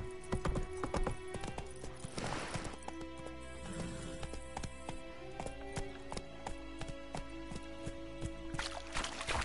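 Roach, Geralt's horse in The Witcher game, trots with steady clip-clopping hoofbeats close by, a brief whinny-like swell mid-clip, layered over ambient game music and environmental tones.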